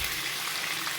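Chicken pieces dropped into a hot pan for white sauce pasta give a steady, dense sizzle and hiss of frying with no break.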